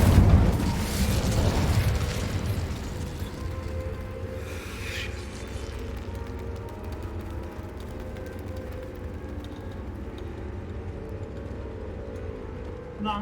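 An Incendio fire spell erupts in a wizard video game: a heavy, loud boom at the start that decays into a long low rumble and crackle, with no voices.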